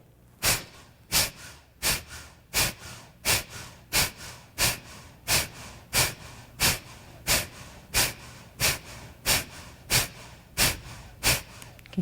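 Rapid, rhythmic Breath of Fire breathing exercise: sharp, forceful nasal exhales at an even pace of about one and a half per second, close and loud, continuing steadily with no talking.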